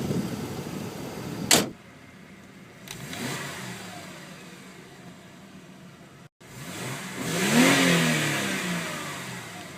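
A 2008 Mercedes C300 V6 revs twice at a standstill. Each blip rises and falls quickly, and a longer, louder rev swells and dies away at the end, heard close and with no talk over it.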